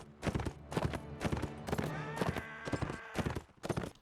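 A horse's hooves in Mount & Blade clop in quick, uneven clusters over a busy battle din, loud and close throughout.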